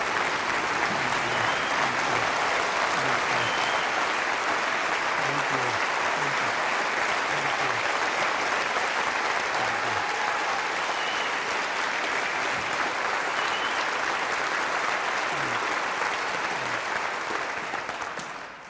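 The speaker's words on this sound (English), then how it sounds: "People I interview don't usually get applauded." Audience applauding Archbishop Emeritus Desmond Tutu of Cape Town, sustained dense clapping from a large crowd that stays loud throughout and tails off only at the very end.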